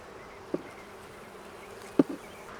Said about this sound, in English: we have a good amount of bees here